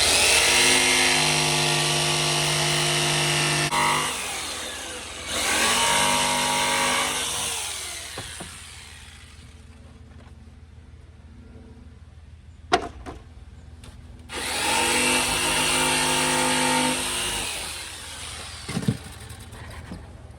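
A power tool whines loudly in several long bursts while cutting a curved piece for the stern steps of a narrowboat, with quieter pauses and small knocks between runs.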